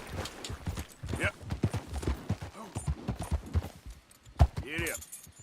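A horse's hooves clop at a steady pace in Red Dead Redemption 2, close and fairly quiet, with a few snorts and brief bits of talk over the hoofbeats.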